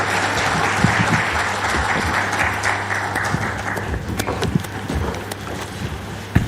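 Conference audience at an aviation week event gives strong, dense applause that thins after about four seconds into scattered individual claps, over a steady low hum from the hall.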